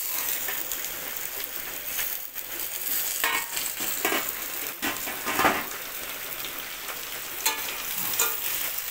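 Vegetables sizzle and crackle steadily in a hot pan as they are stirred, the scraping and frying noise continuous and fairly close, with no talking.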